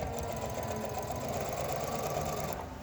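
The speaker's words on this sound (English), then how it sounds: "So the sewing machine still feeds it through, but you keep it firm and straight" A sewing machine runs continuously and close by for about three seconds, stitching a label onto stretchy mesh with a rapid mechanical chatter.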